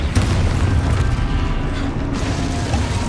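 Expulso explosion spells in Hogwarts Legacy erupt as a continuous deep, loud rumbling boom with crashing debris, sustained for the whole moment without speech.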